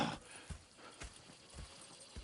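Horse hooves in the video game Red Dead Redemption 2, a few soft, evenly spaced thuds of a horse's steps heard quietly over a faint background.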